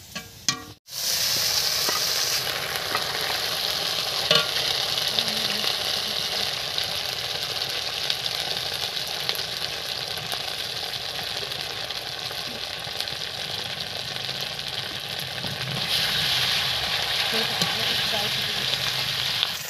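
A paste of ground ginger, garlic, onion and cumin fries in hot oil, hissing in a loud, continuous sizzle right after a brief drop at the start, heard up close.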